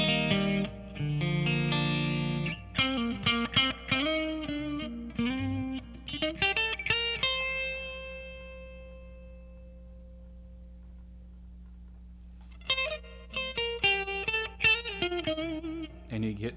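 Distorted electric guitar played through a Fender 68 Custom Deluxe Reverb amp with reverb, ringing chords and picked notes that sustain and fade into a reverb tail, a pause, then renewed bursts of playing.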